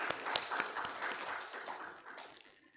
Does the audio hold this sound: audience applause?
yes